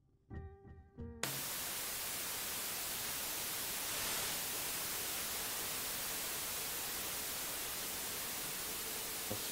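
Steady white noise played through headphones for a Ganzfeld sensory-isolation experiment, starting abruptly after a few brief tones and then holding as a loud, unbroken broadband hiss to the end.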